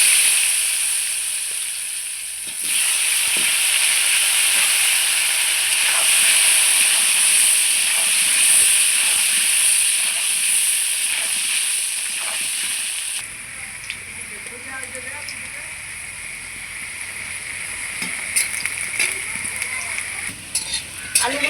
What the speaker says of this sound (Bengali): এইবার সরষের তেল দিয়ে দিচ্ছি, আলুটা ভেজে নেব।